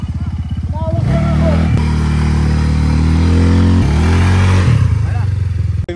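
Motorcycle engine running loud and close, revving up several times in strong rising and falling surges, with people talking in Filipino around it.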